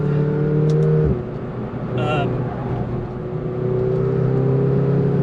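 A McLaren GT accelerates hard on the road, its engine note climbing steadily from inside the cabin, with a brief shift-like drop before it builds again.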